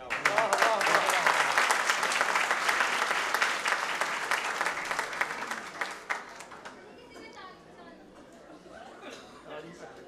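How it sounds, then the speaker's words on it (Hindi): Lecture audience breaking into loud, dense applause that holds strongly for several seconds, then thins into scattered claps and fades as murmuring voices emerge. "तालियां बजाने की जरूरत नहीं है"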